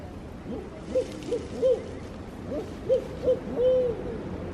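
A person mimics a barred owl's hooting call on a guided hike, a series of short rising hoots followed by a longer drawn-out one, over steady outdoor background noise.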